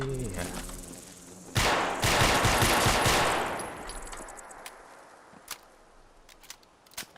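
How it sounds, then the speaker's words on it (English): SMG in Fallout 4 rattling off a rapid burst of automatic fire for about two seconds, loud and close, followed by scattered sharp single cracks and small impacts as the noise fades. "What kind of SMG is this?"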